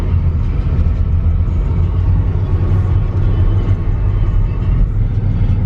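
A BMW E70 X5 towing a trailer on smooth roads produces a constant low, loud road rumble and engine drone from inside the cabin, steady throughout with no talk.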